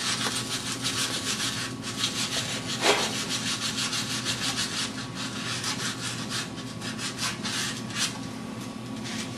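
Abrasive rubbing on a lawn mower flywheel being cleaned where the coil had rubbed, heard as a close, steady, continuous scraping and scrubbing with no pauses.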